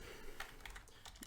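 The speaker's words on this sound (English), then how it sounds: "can just type in virus scan" Quick, light keystrokes tapped out on a computer keyboard in an irregular patter, close and fairly quiet, with no voice over them.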